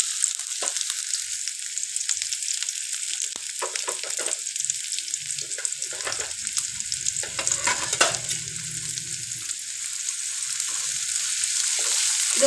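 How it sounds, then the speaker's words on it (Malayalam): Small onions, shallots, sizzling in hot oil in a pan, a constant bright hiss close up with a few stirring scrapes and knocks in the middle, no voices. "ചെറിയ ഉള്ളി നന്നായി ഒന്ന് മൂത്ത് വരട്ടെ."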